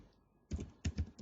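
A short burst of computer keyboard typing entering a website address, a few distinct close keystroke clusters after a quiet pause.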